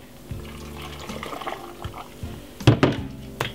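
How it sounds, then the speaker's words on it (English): Water splashes and pours into a blender in short bursts, faint at first, then louder and more turbulent near the end. "Put a little bit of water."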